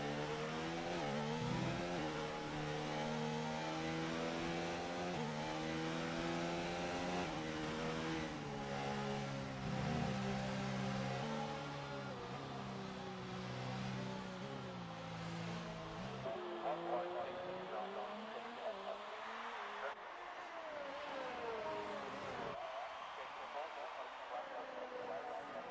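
An F1 race car from a racing video game at the German Grand Prix track runs a lap, its high-pitched engine whining and shifting steadily through the gears, loud and continuous beneath commentary.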